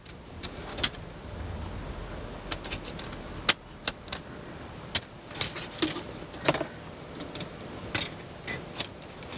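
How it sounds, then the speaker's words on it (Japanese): Inside a plastic model kit, a motor and gearbox drive the folding hood open and shut. The small mechanism gives a soft, steady whir broken by a run of sharp clicks and ticks, some in quick clusters. "次はいよいよギアボックスと連動させたホロの開閉をテストします"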